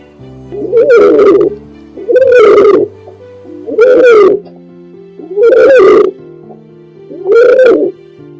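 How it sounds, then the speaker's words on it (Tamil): A pigeon coos five times in a slow, regular rhythm, each phrase a soft, throaty, rolling call separated by short pauses. The calls are close and clear against a quiet background. "புறா ஒரு அமைதியான மற்றும் அழகான பறவை."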